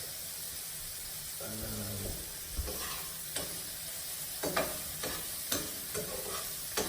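Continuous loud sizzling of seasoning and thyme stir frying in a pot, with intermittent scraping and clinking as it is stirred.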